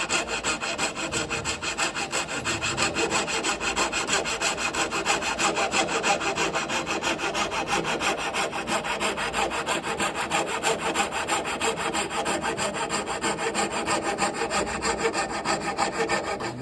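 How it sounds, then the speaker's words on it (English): A hand saw cuts a curve through wood, its steady rhythmic rasping strokes running close and loud without a break, with no talking. "I'm able to maneuver the saw blade to curve around where I need to."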